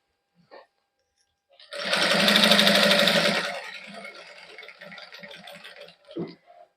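A sewing machine stitches lace onto a plain suit in one loud, close, steady whirring run that eases into a lighter, slower rattle before stopping.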